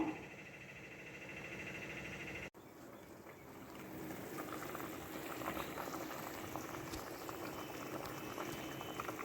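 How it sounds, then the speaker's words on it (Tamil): A thick curry of curry leaves and eggplant bubbles and boils steadily in a pan as the oil separates, a dense continuous sizzle and pop; after a brief cut, the bubbling grows slightly louder and fuller. "இப்போது இது நல்லா ஆயில் பிரிஞ்சு வர வரைக்கும் நல்லா கொதிச்சு வரட்டும்"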